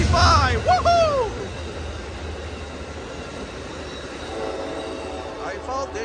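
An Amtrak Coast Starlight passenger train led by an ALC-42 locomotive departs, its rumbling rail noise rolling past after a short horn-like blast at the start, with distant talk and another tonal sound near the end.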